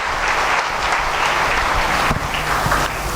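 A gathered crowd at a birthday service in a slum settlement claps loudly to welcome a speaker, a dense, sustained burst of many hands with a few sharper individual claps standing out near the end.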